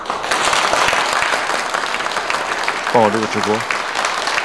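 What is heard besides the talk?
audience applause at award ceremony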